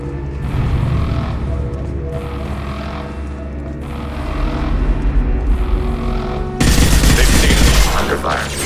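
Bursts of rapid gunfire in the sci-fi shooter Mass Effect 2 crackle over a droning engine-like hum, with a louder, denser volley near the end.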